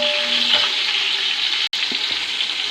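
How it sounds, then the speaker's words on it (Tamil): Small shallots sauté in a pan with a steady, close sizzle and faint stirring, as part of preparing bisi bele bath. "சின்ன வெங்காயம் நல்லா வதங்குதுன்னு பாருங்கள்."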